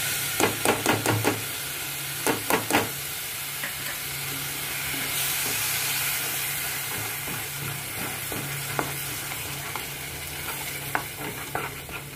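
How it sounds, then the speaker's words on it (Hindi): Yogurt and spices frying in oil in a pan, a steady close sizzle with scraping stirs in bursts at the start and again near the end. "दही को पकाएंगे, दही और मसालों को, जब तक कि ऑयल सेपरेट नहीं हो जाता"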